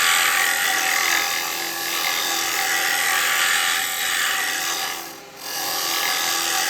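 Carbide chisel cutting spinning pine on a wood lathe, a steady close rasping, shearing hiss that dips briefly twice as the tool eases off.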